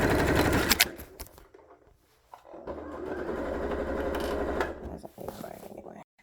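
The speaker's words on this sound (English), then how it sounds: "So we're doing about 5/8 of an inch seam allowance. And I'm just sewing straight down." A sewing machine runs a straight seam at a 5/8-inch seam allowance while making a Butterick B5818 garment. A steady mechanical whir lasts a few seconds after a brief stop, with handling noises before and after.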